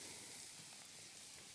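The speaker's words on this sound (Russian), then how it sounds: "Значит, будет жариться в этом масле." Parsley frying in butter that has just begun to brown, giving a steady, even sizzle and hiss that is faint and close, with no talking over it.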